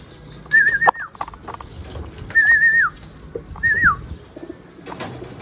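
Racing pigeons arrive at a loft after a 116 km training flight, with three short rising-and-falling warbled bird calls over a busy outdoor background and a few sharp knocks, ending in a burst of noise.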